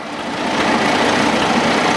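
A 1940 Farmall M tractor engine running steadily and fairly close during a county fair parade, a continuous broadband engine rumble that swells slightly and holds loud throughout, with no talk.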